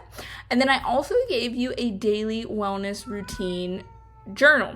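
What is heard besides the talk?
cat meowing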